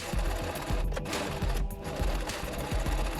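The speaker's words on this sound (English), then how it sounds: "And then of course I sewed it all together, I hemmed using a zigzag stitch" A sewing machine runs steadily and close up as it hems a prom gown with a zigzag stitch, its needle pounding in a fast, even rhythm with no talking.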